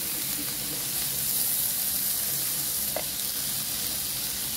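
Igado of pork and liver sizzling hard in a pan while being stirred, a dense continuous frying hiss with one faint clink of a utensil, close and without voices.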